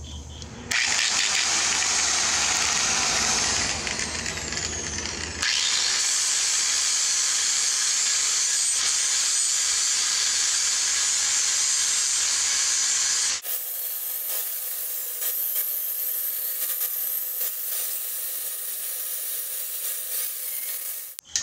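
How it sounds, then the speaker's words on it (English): Rotary sanding disc grinding old paint off a custom metal bumper for a dually truck, a loud continuous harsh rasp with shifts in pitch and intensity as the tool load changes, close and steady with no talk. "So I just ran the sanding disc over it."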